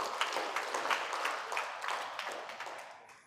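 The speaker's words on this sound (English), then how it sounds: "Please kindly give me a round of applause." A conference audience in Kaduna, Nigeria claps steadily, a fairly faint wash of applause with scattered individual claps that gradually fades out.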